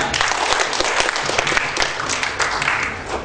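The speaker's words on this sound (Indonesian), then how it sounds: "Tepuk tangan yang kencang." Loud audience applause at a seminar in Pekanbaru, a thick, continuous burst of many people clapping close and strong throughout, with no talking over it.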